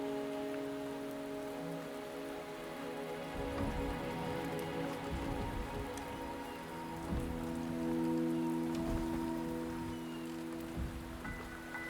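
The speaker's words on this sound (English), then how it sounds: "The rain is subsiding, and the sky will soon clear." Rain falls in the video game Wuthering Waves as a steady patter of drops on surfaces. It sits under a sustained musical drone, with a few sharper splashes now and then.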